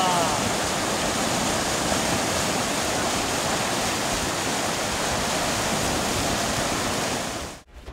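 The flooded Beki river, swollen above danger level by weeks of heavy rain, rushes as a dense, steady roar of moving water that cuts off abruptly at the end.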